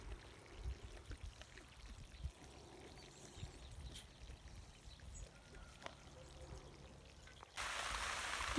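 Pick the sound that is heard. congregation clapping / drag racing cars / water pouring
water pouring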